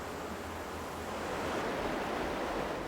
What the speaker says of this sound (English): That water it's just relaxing to hear it go through there like that.